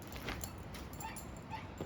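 A puppy whimpering and yipping as it dodges a leash, a few soft, high, short whines close by but faint, over a quiet background.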